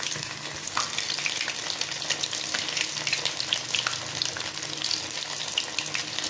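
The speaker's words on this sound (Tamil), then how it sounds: "பாருங்கள், நல்லா ஃப்ரை ஆகிடுச்சு லெக் பீஸு." Chicken leg pieces deep frying in hot oil for homemade Chicken 65, a steady crackling sizzle with bursts of popping and occasional stirring clinks, close and continuous.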